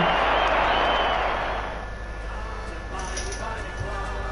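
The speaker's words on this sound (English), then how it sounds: "And you can hear the round of applause." Broad, dense standing-ovation applause from a football crowd fills the first second and a half, then fades into a lower, steady crowd murmur.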